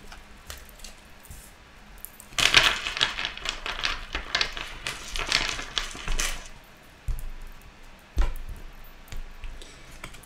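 Tarot cards are shuffled and cut by hand at close range, a soft flurry of riffling, tapping and flicking that runs for several seconds and then trails off into a few scattered card taps.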